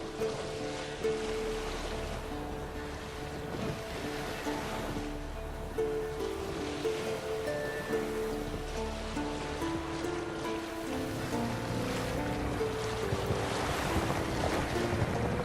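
A sailboat at sea in the Witcher 3 video game, with wind, rolling waves and a sail flapping in the breeze, forming a steady layered wash of water and gusts over low tonal music throughout.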